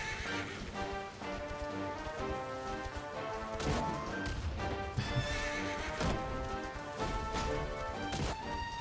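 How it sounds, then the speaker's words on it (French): Horse galloping in the video game Dragon Quest XI, steady clip-clop hoofbeats with occasional neighs and whinnies over continuous game music, loud and close throughout. "Mon cheval avance quand même un petit peu plus vite."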